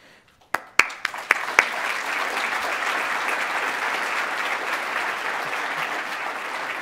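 A conference audience on ending homelessness breaks into applause, opening with a few sharp individual claps before swelling into steady, sustained clapping that fills the room.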